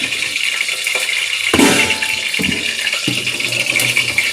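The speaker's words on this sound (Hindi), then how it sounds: "मैंने पानी में ही तेल डाल दिया, शायद पानी में तेल डाल दिया, हाँ, इसलिए चटर पटर हो रही है" Oil splutters in water in a pan while aloo gobi cooks, making a continuous hissing sizzle broken by sharp crackling pops and bursts.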